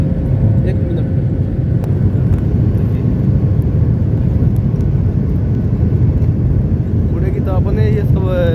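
Airplane engines roaring before takeoff, a loud, continuous low rumble that holds for several seconds, with a voice briefly audible near the end.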